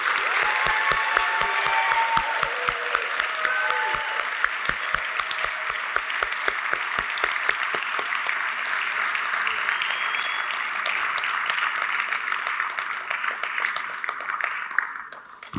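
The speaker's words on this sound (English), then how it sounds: "please let's give a round of applause for everyone here tonight" A theater audience at a graduation celebration applauds warmly, a broad wash of clapping with a few rhythmic, louder hand claps cutting through, sustained throughout before fading out at the end.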